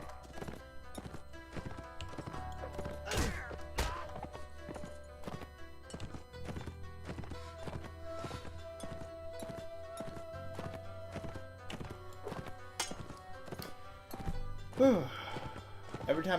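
Horse hooves clip-clop in a steady, rapid galloping rhythm throughout a video game scene, with neighing and speech mixed in.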